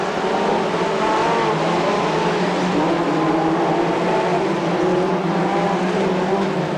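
A Formula 2 race car at Crewe accelerates away under green flag racing conditions. Its engine note is loud and sustained, climbing steadily for almost seven seconds, with no voices over it.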